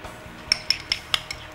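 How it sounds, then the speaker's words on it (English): Mashed potato is mixed with warmed cream in a pan, and the utensil makes about half a dozen sharp, light clinks against the metal in a quick irregular rhythm over a quiet room. "So I'm just going to mix all that."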